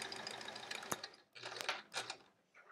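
A sewing machine stitches pieces of a sampler quilt in a chain, a soft close whirr with a couple of short pauses, heard alone without talk.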